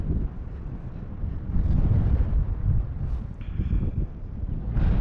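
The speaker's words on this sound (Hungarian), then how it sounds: "Ne, a szélnek van az ereje." Strong wind gusts steadily across an outdoor microphone, a loud continuous roar and buffeting that swells and eases.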